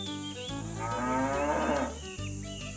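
A cow gives a single long, loud moo, clear and close with no talking, set over a soft, steady musical backing as a sound effect in a children's bedtime story about Jack and the Beanstalk.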